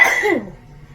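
One short, close cough from a woman with a cold, followed by a brief fading tail and then near silence.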